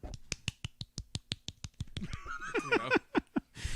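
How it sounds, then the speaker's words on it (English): A soft, polite golf clap on a podcast show welcoming a guest: a run of light, evenly spaced claps, with a voice briefly breaking in partway through before the clapping resumes. "Golf clap for Stolen Son."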